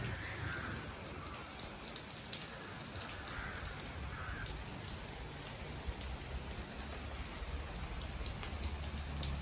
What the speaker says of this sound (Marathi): गावचं वातावरण बघा पाऊस पडतोय.